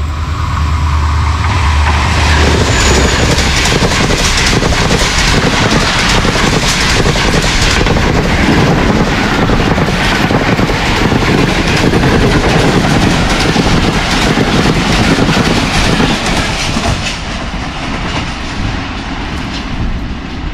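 A Sir Syed Express hauled by a GMU30 locomotive rushes through Jhimpir station in Pakistan at about 101 km/h: a loud, continuous rumble with rail clatter and wind buffeting that eases slightly near the end.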